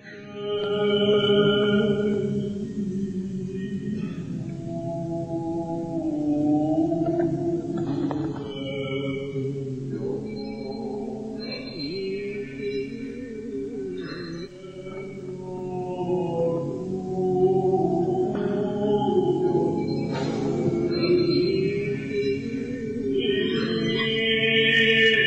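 A Byzantine chant hymn, 'Se hymnoumen' in the grave mode by Konstantinos Prigkos, sung as a slow, sustained melodic line that sounds like a voice over a drone, continuous and moderately loud throughout.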